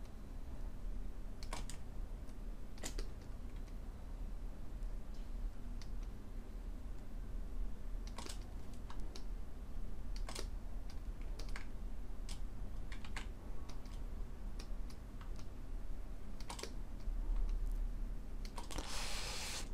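Computer keyboard keys tapped at a desk during 3D shark modeling, scattered single clicks and short bursts spread across a steady low room hum, faint and close, with no voices.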